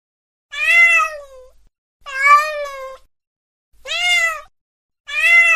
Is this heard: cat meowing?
yes